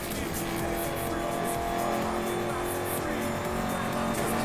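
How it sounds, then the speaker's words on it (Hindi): A race car in the video game Need for Speed Most Wanted fires its nitro boost, and the engine's steady, loud roar and whine run through the whole stretch without a break. "नाइट्रो देता हूँ"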